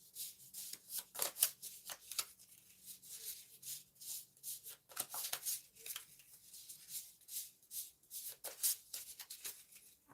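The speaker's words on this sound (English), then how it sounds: "Shuffle up these note cards" Paper note cards being shuffled by hand, a close, quiet series of rapid riffling and sliding bursts repeating steadily for several seconds without talk.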